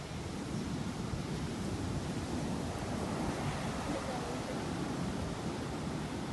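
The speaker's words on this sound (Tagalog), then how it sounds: "Hindi kami nakaligo kasi sobrang lakas ng alon ngayon." Strong ocean surf pounds the shore at a beachfront in Dingalan, a loud, steady wash of broadband wave noise with wind buffeting the microphone throughout.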